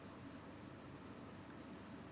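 A hand writes the words "natural resources" during a primary-school science lesson, making a faint, continuous scratching that stays quiet and steady for about two seconds, with no talk.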